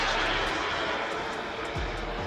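A model aircraft engine drones loudly and continuously through an aerobatic pass against a crosswind, its pitch shifting slightly as the plane maneuvers.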